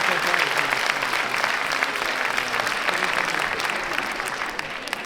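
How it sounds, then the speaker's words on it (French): Sustained applause from a large audience at a high school eloquence contest final in a theatre fills the whole stretch, dense and even, loud and unbroken, with faint voices buried in the crowd noise. "et vous pouvez les applaudir."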